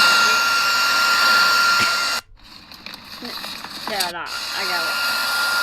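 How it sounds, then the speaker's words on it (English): A blow dryer blasts steadily up close, cuts off abruptly, then returns more faintly as a person speaks. "Are they warming something up with the blow dryer and the tinfoil,"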